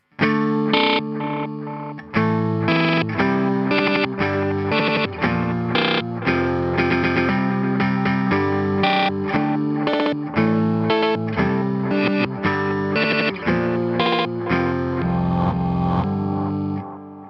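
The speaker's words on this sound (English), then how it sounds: "It's a really good sounding bit crusher." Electric guitar played through a Meris Ottobit Jr bit crusher pedal in the amp's effects loop, giving a dense, gritty, distorted tone over steady chords and riffs that ring loud and continuous throughout.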